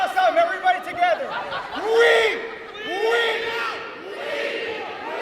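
A wrestling crowd at an IHW independent wrestling event chants loudly in unison, rising and falling voices with rhythmic swells, mixed with scattered shouts and chatter around the arena.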